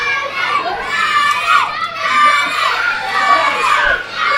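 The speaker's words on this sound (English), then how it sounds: "Now the crowd are also telling Danny Black something" A crowd at a wrestling show shouts and chants loudly in rising and falling waves, many voices yelling together at a wrestler.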